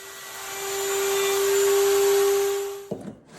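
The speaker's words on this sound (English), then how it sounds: "The template is being the guide, and the router itself is just trimming off the excess." A router trims a guitar fingerboard along a template, a loud, steady high-pitched whine lasting almost three seconds before it cuts away into brief handling noise.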